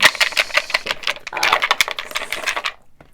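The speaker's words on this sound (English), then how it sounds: "I'm going to shuffle these cards." A deck of angel cards is shuffled by hand in a quick run of crisp riffles and flicks, close and fairly loud, then stops, with no talking.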